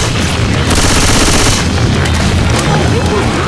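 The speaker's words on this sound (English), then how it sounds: "Throwing a pipe bomb" Pipe bomb blast and rapid gunfire during a Left 4 Dead 2 expert-difficulty campaign on The Parish, a dense, loud continuous barrage of booming shots and bursts throughout, with no clear pause.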